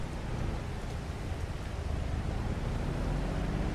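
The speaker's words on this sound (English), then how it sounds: "It's still raining." Steady rain falls in the Farming Simulator 22 video game, a continuous even patter and hiss with no breaks.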